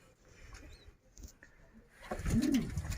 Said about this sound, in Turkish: güvercin yavrusu